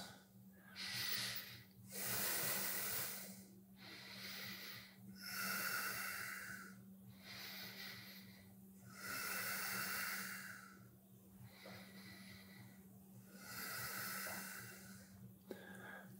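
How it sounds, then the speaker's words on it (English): Slow, deep breaths through the nose while someone holds a yoga backbend, such as wheel: about five long hissing inhales and exhales with short pauses, close and soft under a low steady hum. "We're here for about 5 breaths."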